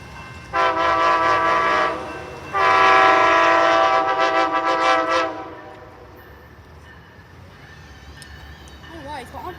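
Diesel freight train horn at a railroad line in Ashland, Virginia, blasting loudly in two long sustained honks, the second longer, close by, then fading into the rumble of passing rail cars.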